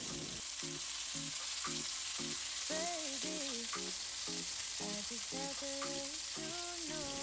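Beef short ribs searing in a hot pan for braising, a loud continuous sizzle that stays even from start to finish, with light background music running underneath.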